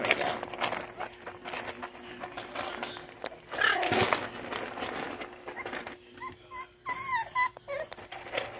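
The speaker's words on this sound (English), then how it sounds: "Iris and Timber puppies will be 6 weeks old in 2 days" Iris and Timber puppies, a litter nearly six weeks old, whimper and whine in short high bursts, quiet and close, with scattered rustling and movement between cries.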